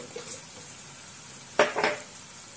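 Prawns with onion and flour stirred in a pan, giving a faint steady sizzle with a couple of louder scraping stir strokes near the end.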